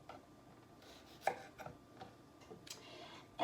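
Knife chopping washed cucumbers for homemade dill pickles, with several sparse, quiet cutting taps spaced irregularly on a board against a soft room background.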